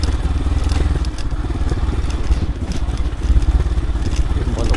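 A motorcycle grinds along a rough, rocky trail on the way to Ama Yangri, its engine throbbing up close beneath continuous crunching and clattering from the uneven ground.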